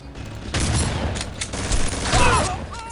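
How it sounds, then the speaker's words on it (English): Shotgun blasts in the video game Red Faction 2, loud booming shots in quick succession against security droids, with rumbling impacts and brief voice sounds mixed in. "I found that the shotgun is actually best for these one-hit kill security droids"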